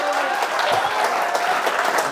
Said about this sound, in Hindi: एक बार सारे लोग तालियां बजा दीजिए,